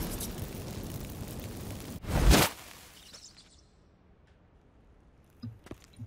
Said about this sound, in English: Get ready for some magic fireworks. Once I activate the incense,